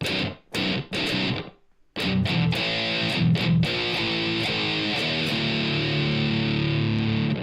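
A heavily distorted 7-string electric guitar plays chugging riffs with sharp stops, then sustains thick, saturated chords through a loud amp.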